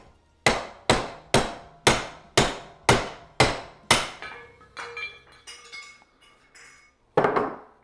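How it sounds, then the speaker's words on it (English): A steel hammer strikes metal in about eight loud, evenly spaced blows with ringing decays, followed by several softer clinks and taps and then one final strike. "I have to get a steel hammer so I can really hit it."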